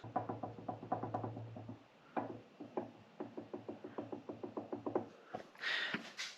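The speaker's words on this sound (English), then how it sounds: "And there's that ever so slight plunking, that's the backlash" Worn pinion flange backlash on an AE86 differential makes a quiet, steady series of small knocking plunks in quick rhythmic runs with brief pauses, close up and alone.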